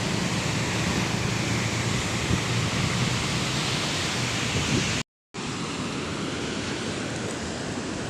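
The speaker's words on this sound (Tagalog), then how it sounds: "cancel na naman ang biyahe dahil ang lalaki na ng alon, delikado" Large waves break along the shore in Palawan, Philippines, too rough for a boat to cross. The surf is a loud, continuous, close roar, briefly cut off before resuming.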